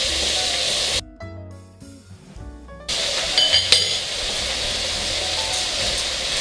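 Rice goes into a pan with beef fillet and olive oil, bringing a steady hiss of sautéing with a brief clink, after a short stretch of quieter background tones.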